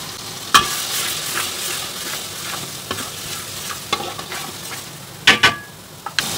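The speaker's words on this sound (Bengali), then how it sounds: "এখন মশলাটাকে ভালো করে কষাবো।" Beef with ground cumin and coriander sizzles and fries in a pan for a Khulna-style chui jhal curry, a constant hiss broken by scraping stirs and a few sharp utensil clinks against the pan.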